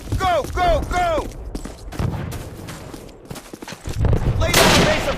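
Bursts of close rifle gunfire crackle through a Call of Duty battle, sharp repeated shots mixed with shouted voices at the start and a dense loud volley near the end.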